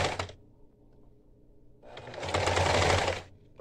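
A sewing machine stitches bias binding onto a bra cup in two bursts of fast, close, buzzing needle chatter, a short one at the start and a longer run after a quiet pause.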